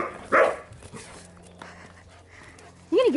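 A Doberman puppy gives a short bark early, then a brief whimpering yelp at the end, close by with quiet room sound in between.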